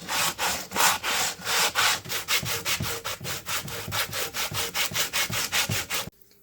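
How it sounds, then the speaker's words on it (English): Rhythmic back-and-forth sanding strokes rasp across a wooden hammer handle to strip old varnish, steady and close, about twenty strokes before stopping abruptly. "I'm going to be sanding off the old varnish so I can apply a new coat of clear coat to the handle."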